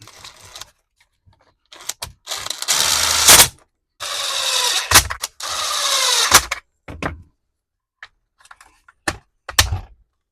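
Bolts go back into a Craftsman string trimmer during a pull-cord repair: short close bursts of tool whirring and clicking, separated by gaps of near silence and a few knocks.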